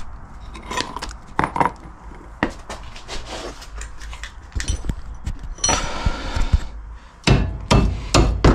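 A hammer strikes a car brake disc in a workshop, a series of sharp metallic clanks and rings at irregular intervals, with some rattling of tools between blows.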